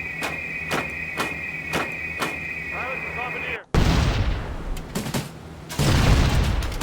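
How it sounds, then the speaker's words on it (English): Bombs and gunfire in a WWII B-17 bomber video game: a run of sharp, evenly spaced shots, then a sudden heavy blast that swells into a long roaring rumble, with a voice briefly speaking. "Bombs are out. 500s and 100-pound incendiaries."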